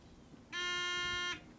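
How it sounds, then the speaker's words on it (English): A quiz bowl contestant's buzzer sounds once during a buzzer check, a loud harsh electronic tone held steadily for under a second before stopping abruptly, with quiet room noise around it. "We'd like to go through and double-check the buzzers"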